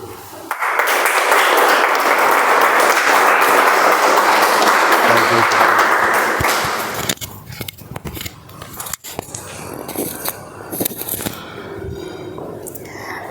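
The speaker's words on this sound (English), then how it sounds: "Please give a round of applause for Toastmaster Rashmi." A room full of people claps for a speaker at a Toastmasters club meeting, a dense, loud and steady round of applause that fades out after several seconds into quieter room sounds and shuffling.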